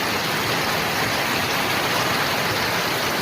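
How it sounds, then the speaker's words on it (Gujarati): Heavy rain pours down steadily over a wheat field during the monsoon, a dense, continuous hiss with no pauses and no voices. "વરસાદ એટલો છે ને કે વાત જ ના પૂછો"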